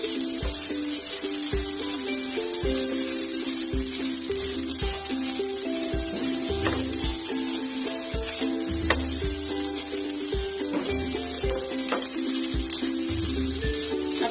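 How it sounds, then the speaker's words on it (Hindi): Modak frying steadily in hot oil: a dense, continuous sizzle and crackle with occasional soft stirring knocks, close and even throughout with no talking. "इसको 2 मिनट के लिए फ्राई करना है हमें।"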